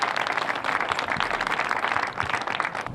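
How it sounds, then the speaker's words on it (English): Audience applause for a high school armed drill team at a Veterans Day event, a steady, dense wash of many hands clapping throughout, fairly loud and even, with no talking over it. "Let's give them young men a round of applause."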